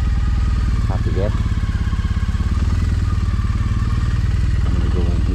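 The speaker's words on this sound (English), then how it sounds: "Can you turn off the bike for a minute?" A motorcycle engine idles close by in a steady, continuous low rumble with a faint clatter, running throughout while people talk over it.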